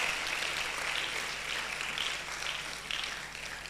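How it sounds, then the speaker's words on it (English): Steady audience applause fills a summit hall, a dense wash of many hands clapping together at a fairly even level throughout, with no talk over it. "Another round of applause for her."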